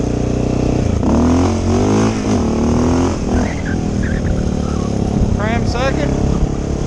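A Honda 650L motorcycle revs hard through first and into second gear while holding a wheelie, its engine climbing in pitch in loud, close surges as a rider talks over it.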